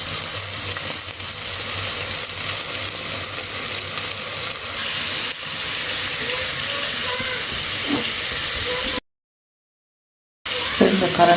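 Onion, green chilli, tomato and garlic hiss and crackle in hot oil as a tempering for Sri Lankan fish curry, a loud steady sizzle with occasional spoon scrapes and clinks, then a brief cut to silence before it resumes.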